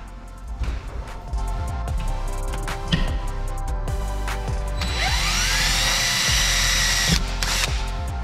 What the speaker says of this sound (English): So I'm gonna use a bit 3/32 to pre-drill the hole.